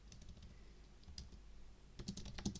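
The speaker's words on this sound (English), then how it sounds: "I'm going to go ahead and type in create training" Fingers tap out a short run of keystrokes on a computer keyboard, quiet and close, with a brief burst of faster clicks near the end.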